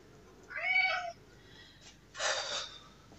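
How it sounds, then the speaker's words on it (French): A house cat meows twice indoors, two clear drawn-out cries about a second apart, close and moderately loud against a quiet room. "il vient me miauler dessus"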